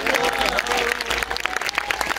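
Congregation at a church prayer service clapping their hands in praise, a dense, continuous patter of many hands, fairly loud and close, with no one speaking.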